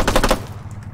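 Automatic weapon gunfire in the tactical shooter Rainbow Six Siege, a loud, close burst of about five rapid shots, then a quieter tail of room noise with no talk.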